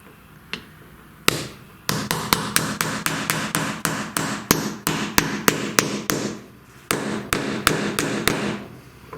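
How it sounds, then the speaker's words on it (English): A hammer tapping parts in through a block of wood while upgrading a 3018 CNC machine: about twenty sharp, loud, close knocks in a fast, even series, briefly pausing once, with no talk. "Just start them with your fingers and just tap it in. Use a bit of wood on them."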